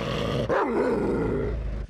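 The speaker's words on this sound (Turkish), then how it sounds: "Polis köpekleri giderek sabırsızlanmaya başlıyor." Police dogs growling impatiently while waiting for an expected student protest, a sustained, continuous low snarling rumble that rises after a brief dip and carries on loudly and close for nearly two seconds.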